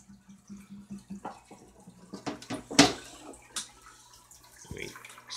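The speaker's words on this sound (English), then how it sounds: "I'm gonna refill this water up" Water poured and splashed into a goldfish tank, with small drips and pouring bursts and one brighter gush partway through, close by and fairly quiet.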